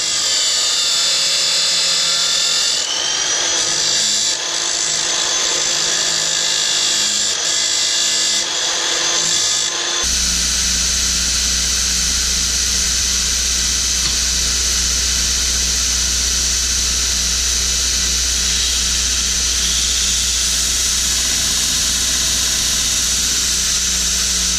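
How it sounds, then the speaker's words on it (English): Belt grinder running a coarse 36 grit belt against 5160 spring steel while shaping a knife blade contour; a loud, continuous whine with an abrasive rasp, close and unbroken throughout. "I'm using the grinder with 36 grit sandpaper to start to grind the contour"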